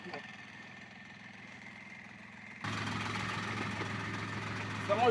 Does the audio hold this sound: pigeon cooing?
no